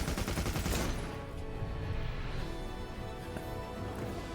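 Heavy bowgun in the Monster Hunter game firing rapid ammo, a loud dense stream of quick overlapping gunshot-like bursts running continuously throughout.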